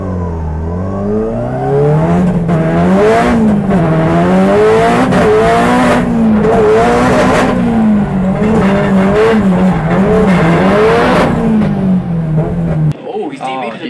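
A 450 bhp SR20-powered drift car launches on a qualifying run, its engine note rising and falling in loud, wavering revs with tire squeal mixed in, under continuous commentary.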